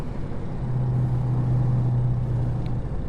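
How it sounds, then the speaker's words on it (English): Engine brake of a Mercedes Axor truck in American Truck Simulator, a steady low droning rumble with a sustained buzzing tone, fairly quiet and constant throughout with no talk. "Weak sounding engine brake."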